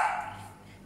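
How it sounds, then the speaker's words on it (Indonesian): A single short dog bark, fairly faint and slightly distant, heard indoors in a home kitchen while eggs are being cooked. "Guguk saya nih."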